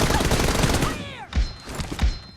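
Rapid bursts of gunfire in the mobile battle royale game PUBG Mobile (BGMI), a loud fusillade followed by a couple of heavy single shots, with game voice lines over it.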